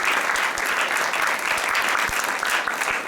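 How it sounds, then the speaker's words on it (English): Sustained audience applause fills an improv theater, a dense steady wash of clapping from a full house with a few sharper individual claps standing out, loud and close throughout. "Please give yourselves a huge round of applause."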